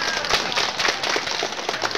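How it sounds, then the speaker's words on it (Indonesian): An audience claps at a speech event in Indonesia, a close, steady spatter of claps that continues evenly throughout, with no voices over it. "Tepuk tangan, kuat."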